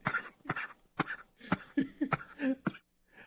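Coughing from someone doubled over laughing, a run of roughly eight sharp, close bursts in quick irregular succession, mixed with breathy laughter and no words.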